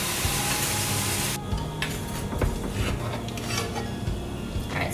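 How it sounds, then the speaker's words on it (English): Tomatoes sizzling and frying in a hot pan, a steady crackling hiss with a few clinks of a utensil against the pan. "let them set and start sizzling and sauteing"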